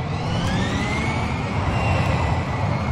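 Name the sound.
airplane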